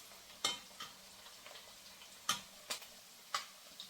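Prawns frying in a pan for fried chilli prawns: a soft, low sizzle runs throughout, broken by sharp crackles and pops at irregular intervals, close and moderately loud, with no talk.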